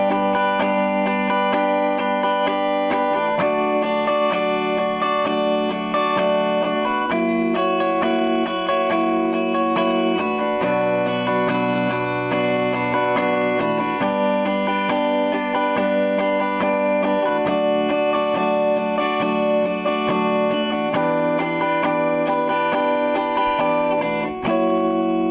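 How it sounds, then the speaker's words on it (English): An electric guitar strums the chords of a song's chorus with a distorted, effects-laden tone, sustained chords changing every few seconds, loud and continuous without any voice. "they're much simpler because we're just going to strum them."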